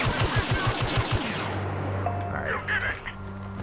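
Blaster gunfire in the Star Wars Battlefront video game during a Tatooine survival match, a rapid, evenly spaced burst of loud shots that stops abruptly, leaving a low hum, faint game tones and a voice talking.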